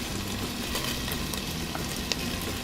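Garlic and ginger sizzle in a pan while cooking laing, a steady loud frying hiss with a few faint stirring clicks, no voices.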